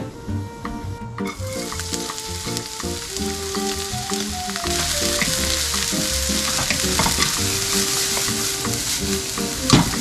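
Ground meat and tomato sauce for meatball spaghetti sizzle and crackle steadily in a pan over high heat, with stirring scrapes throughout and no talking.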